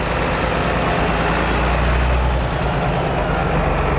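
A John Deere 720, one of the largest two-cylinder farm tractors, runs at low RPM at a cotton gin festival, giving a steady, loud, low engine rumble that fills the whole stretch with no talk over it.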